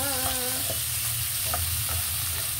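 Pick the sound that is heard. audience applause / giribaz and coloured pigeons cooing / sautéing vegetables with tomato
sautéing vegetables with tomato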